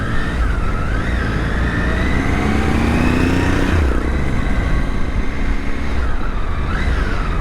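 A Triumph Tiger 800 motorcycle rides through heavy Bangalore road traffic, its engine loud and close, with rising and falling horn or siren-like tones from surrounding vehicles.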